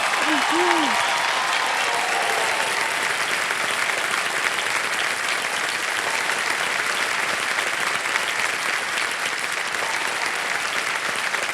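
Sustained studio audience applause on a television quiz show set, greeting actress Shefali Shah; dense, loud, steady clapping from a large crowd filling the whole stretch, with a brief voice at the very start.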